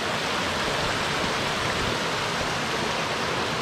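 A waterfall along a trail roars as a steady, dense wash of rushing water, loud and continuous throughout with no voices over it.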